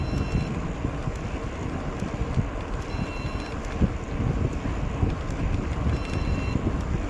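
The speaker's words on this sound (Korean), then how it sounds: "현재 풀 스로틀 당겨서 달리고 있는 상태입니다." A HIMO C20 electric bike rides at full throttle up a slight incline with the rider pedaling, giving a steady broadband rush of wind buffeting the microphone and road noise that stays even and continuous throughout.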